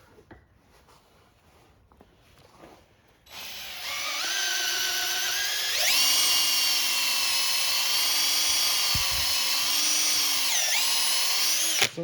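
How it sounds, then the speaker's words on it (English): A DeWalt drill spins up and whines steadily as it machines a Yamaha YZ250F motorcycle suspension linkage part, loud and close, with a pitch shift midway and faint handling noises before it starts. "Just a little machining with a DeWalt drill and a bare hand."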